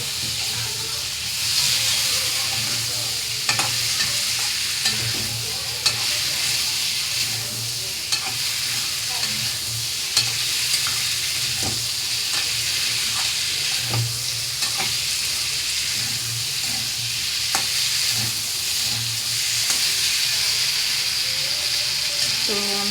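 Potatoes and boiled taro frying in a pan for a Bengali curry, a steady close sizzle and hiss with a spatula stirring and scraping throughout, no voices.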